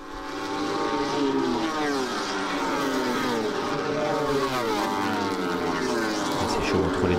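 BMW World Superbike racing motorcycles at Cremona, engines revving and wailing steadily with shifting pitch as bikes pass, under French race commentary.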